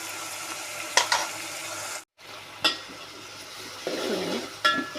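Masala frying in a pan for mutton curry, a soft steady sizzle broken by a few sharp scrapes and clinks of a spoon stirring against the metal, with a brief silent gap midway.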